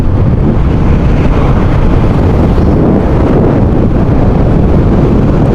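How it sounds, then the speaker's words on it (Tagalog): Strong wind roars and buffets the microphone continuously during a motorcycle ride at Sambo's Farm, a loud, steady low rumble with no pauses throughout. "napakalakas ng hangin"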